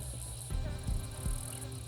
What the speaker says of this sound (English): After dark, male cicadas call to females,